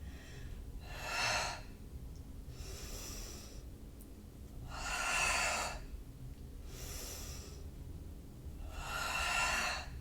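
Slow, audible exhales during a calming yoga class for anxiety, three long airy breaths spaced a few seconds apart, close and soft with quiet pauses between.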